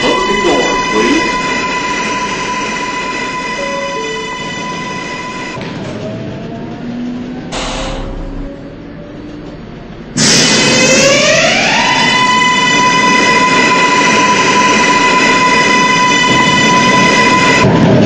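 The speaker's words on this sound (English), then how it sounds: "A Queensbound 7 train." An automated Queensbound 7 subway train rumbles and hisses with broadband noise and steady tones, a sharp horn-like burst midway, then louder rolling clatter as the train gets under way, loud and close throughout.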